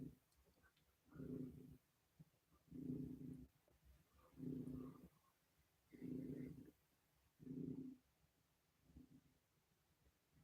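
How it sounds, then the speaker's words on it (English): A cat purring loudly and close, in six slow rhythmic rumbling pulses with short quiet gaps between them. No other sounds are heard. "He's purring so loudly."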